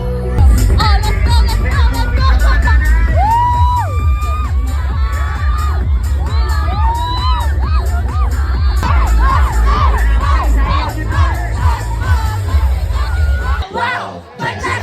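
A dense, loud party crowd on the island of Siargao, with continuous shouting, whoops and cheering over pounding low music, and many voices overlapping throughout.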